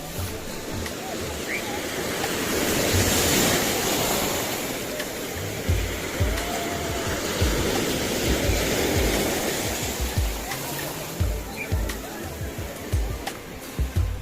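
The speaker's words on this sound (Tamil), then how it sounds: "இந்த அலை வந்து காலில் மோதும்போது ஒரு செம்ம ஃபீல் இருக்கும்" Ocean surf breaks on the beach at Tiruchendur with a loud, steady roar that swells and rolls continuously, filling the scene without pause.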